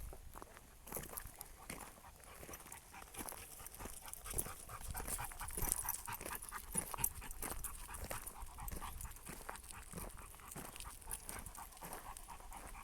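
A dog pants rapidly and steadily on a busy forest walk, close by, with footsteps on the ground and occasional faint whimpers.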